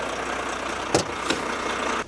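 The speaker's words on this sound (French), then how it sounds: "Je vais donc dégager le tracteur." A truck tractor unit idles and pulls away from its detached trailer, a steady low engine drone with two brief sharp clanks or hisses partway through, then a sudden cutoff.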